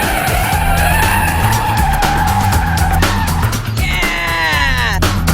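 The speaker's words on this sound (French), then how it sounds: "nos compères vont apprendre à faire un 180 degrés avec une voiture normale" An ordinary car swings through a 180-degree turn, its tires squealing loudly for several seconds over the roaring engine, and the screech bends sharply near the end of the spin.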